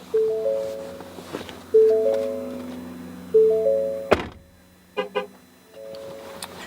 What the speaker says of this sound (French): un avertissement sonore au niveau de l'ordinateur de bord et un coup de klaxon